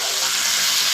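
Chopped tomato goes into a sizzling chicken kasha curry in a pan with fried potatoes and garlic. It makes a steady, bright frying hiss that stays even throughout.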